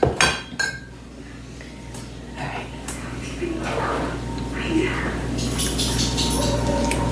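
Cutlery scraping and clinking against a bowl while a sandwich filling is stirred, with soft voices murmuring in the background.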